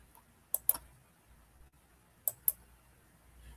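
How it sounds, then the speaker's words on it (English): A few sharp keyboard clicks in two small bursts, spaced apart against a quiet room, close and crisp, with no talking. "maybe I just missed it because I was typing."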